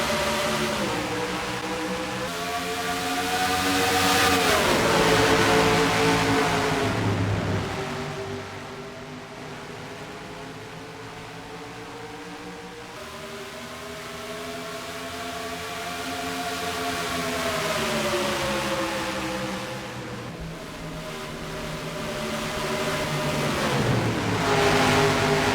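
A pack of race cars gets the green flag at Nashville in a racing video game, producing a continuous dense roar of engines that rises and falls in pitch as they accelerate and shift, with no voices.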